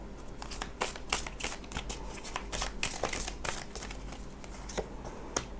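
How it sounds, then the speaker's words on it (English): Tarot cards being shuffled and drawn, a steady run of crisp riffling flutters and soft slaps repeating close by, with no voices. "just be patient a moment as I draw the cards for you"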